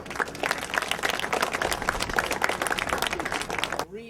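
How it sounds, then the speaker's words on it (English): A crowd at an outdoor baton relay ceremony bursts into sustained applause for a school principal, with dense clapping and some cheering that holds steady for a few seconds, then cuts off abruptly. "And let's give her a big cheer."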